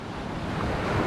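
Ocean waves wash onto Senggigi Beach in Lombok, a steady broadband surf roar with some wind noise on the microphone, continuous and moderately loud with no voices.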